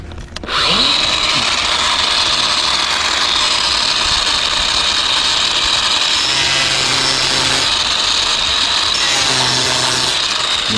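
A power tool, likely a grinder, cuts through a 19mm pipe during leak detection work, a loud steady close-up whine and grinding roar that runs unbroken for about ten seconds with slight shifts in pitch.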